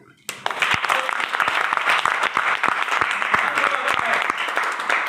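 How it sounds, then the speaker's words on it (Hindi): A large seated audience at a training seminar bursts into sustained, loud applause for themselves, dense clapping starting abruptly and holding steady to the end. "ताली बजाएं अपने लिए।"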